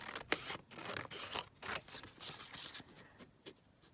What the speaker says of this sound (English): I'm going to cut this out and then rough up the edges